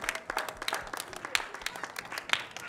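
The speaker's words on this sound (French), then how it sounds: "Je voudrais vous demander d'applaudir une fois de plus pour ce beau film Touaga" A small film-club audience claps for the film Twaaga, fairly quiet and loose, with distinct individual hand claps rather than a dense roar.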